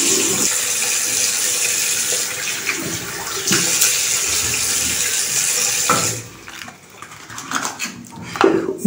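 A Muhle R41 razor is rinsed under a running bathroom tap, a steady hiss of water with clinks as the metal razor knocks against the basin, the flow stopping near the end and leaving scattered small splashes and taps.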